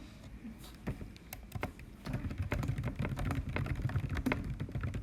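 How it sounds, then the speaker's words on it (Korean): Typing on a computer keyboard during an online lesson, a run of quick irregular key clicks, fairly close, growing busier and denser in the second half. "여기 타이핑으로 적어줄게"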